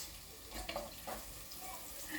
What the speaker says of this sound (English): So I've put garlic in my dish. I'm frying it for about 2 minutes.